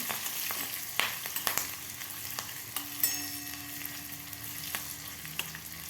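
A tempering of asafoetida and grated ginger fries in hot oil for curd rice, a steady quiet sizzle dotted with sharp crackles and pops and occasional stirring taps, close by, without any voices.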